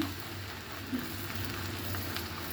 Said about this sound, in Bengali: এখন আমি একটু কষিয়ে নিচ্ছি।